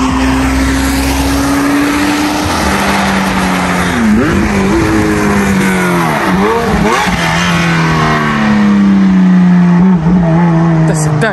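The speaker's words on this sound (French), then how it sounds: "son échappement, il fait du bruit" Porsche 996 GT3 driven by a hill-climb racing champion, its exhaust roaring loud and close as the engine revs up and down repeatedly, with the pitch swooping and climbing, a voice speaking over it.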